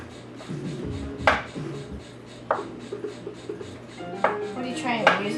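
Penne pasta being stirred into vodka sauce in a pan, with scraping and clinking of utensil against the pan in irregular bursts, close and moderately loud, a steady low hum underneath.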